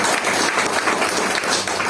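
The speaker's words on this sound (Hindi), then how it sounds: "पहले तो आप जोरदार ताली बजाइए कि इस बारिश में आप यहाँ बैठे हैं" Audience clapping for a speaker at a rain-soaked business talk, a dense, steady wash of applause that holds for about two seconds without pause.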